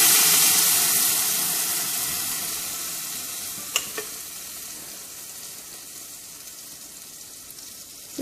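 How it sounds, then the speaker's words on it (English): Spinach puree for palak paneer sizzling loudly in a hot pan as it goes in, the frying hiss strongest at first and slowly fading to a softer steady sizzle, with a couple of brief clinks. "now we are going to put all this palak puree of spinach"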